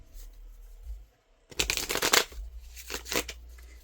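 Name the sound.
shuffling a deck of tarot cards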